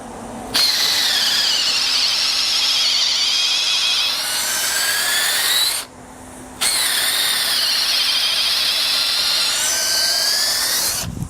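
A Makita drill in low gear drives a 10 mm bit into wood, a loud whining, straining tone that sags in pitch under load, cuts out briefly, then restarts and strains again.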